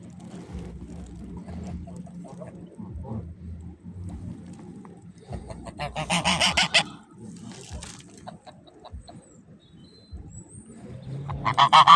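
Geese honking near a lake with swans and ducks around, loud bursts of harsh calls in clusters rising over quieter low murmuring and splashing, with a final strong volley at the end.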